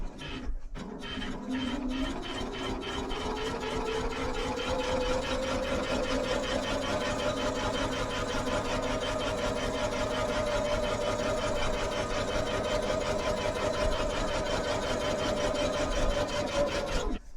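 A sewing machine runs steadily while stitching rows across a flannel-backed reversible bag. The motor hums at close range with a rapid, even needle rhythm that holds for the whole stretch, alone and without talk.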